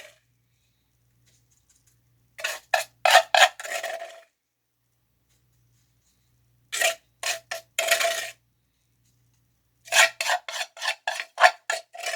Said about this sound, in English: We'll scrape out as much as we can because we're going to make the next mold in this.